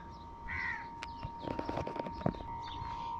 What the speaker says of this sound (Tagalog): Ayan yung uwak.